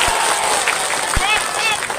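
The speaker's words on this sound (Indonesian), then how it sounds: "Ya tepuk tangan sekali lagi." Audience of women at a religious gathering in a village in Indramayu applauding, a dense, steady burst of clapping heard up close.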